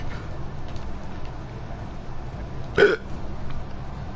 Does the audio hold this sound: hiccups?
yes